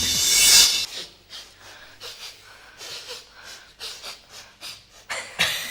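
A dog panting with its tongue hanging out: quick, breathy huffs repeating in an uneven rhythm, close and fairly quiet, after a brief louder rustle at the start, with no voices.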